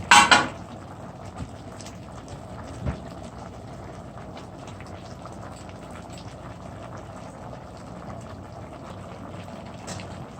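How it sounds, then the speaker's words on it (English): Oxtail stew with peas simmering in a pot on the stove as it is stirred: a sharp clatter of utensil on pot at the start, then a faint, steady low bubbling with a soft knock midway. "We're just gonna stir, and I'm gonna put the coconut milk in."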